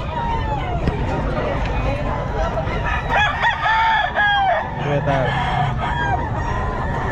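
Roosters crow repeatedly at a busy pet market, loud nearby cock-a-doodle-doos and clucking mixed with chatter, people talking over the birds throughout.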